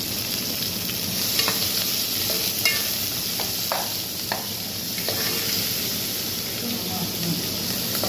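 Garlic and ginger paste with green chilies sizzle and fry in hot oil for vegetable khichuri, a steady close hiss broken by the clinks and scrapes of stirring.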